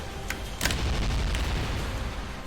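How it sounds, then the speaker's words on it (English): Explosions in the video game I wanna be the Justice Guy, a sharp blast followed by a rumbling boom that lingers, with a few smaller bursts, no talking. "Those explosions last a while, so you gotta be careful"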